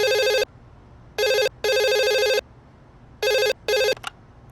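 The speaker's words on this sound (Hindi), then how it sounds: "फोन उठा।" A telephone at a hotel reception desk rings loudly and close by in repeated electronic bursts, two pairs of rings separated by short silences, ending with a click as the receiver is picked up.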